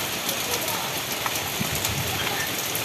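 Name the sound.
rain starting to fall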